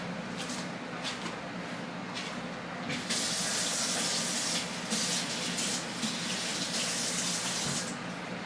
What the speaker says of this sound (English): Let me wash my hands first.